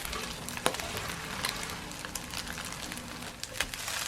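Onigiri rice balls pan-frying in a thin layer of oil give off a steady close crackling sizzle, with scattered louder pops and spits throughout.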